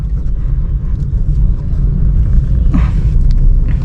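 Steady low engine rumble from a car in second gear while pulling through a busy market area, a continuous, fairly loud droning hum heard from inside the cabin with no clear change in pitch.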